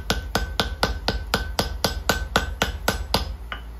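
A hammer strikes a hot metal workpiece on an anvil in a steady series of about thirteen sharp, close blows, evenly spaced roughly a quarter second apart.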